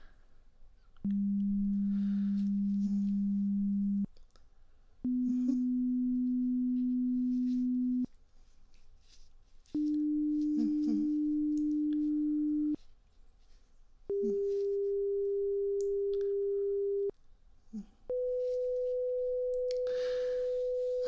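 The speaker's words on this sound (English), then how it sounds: "Now I'm going to repeat the tones, but this time the tones are going to increase in volume" Pure steady test tones for a hearing check, five in a row, each about three seconds long with short gaps and each pitched a little higher than the last, clear and close against near silence.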